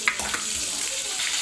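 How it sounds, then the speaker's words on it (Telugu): Coriander seeds, cumin and garlic sizzle in hot oil, a bright steady frying hiss with small crackles and a few pops at the start as the spices hit the pan. "ఇప్పుడు మనకి నూనె అయితే మరిగిపోయింది. నేను ఇందులో ధనియాలు, జీలకర్ర, వెల్లుల్లి వేసుకుంటున్నాను."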